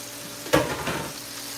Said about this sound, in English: I'm gonna go ahead and just pour my mushrooms over my sausages.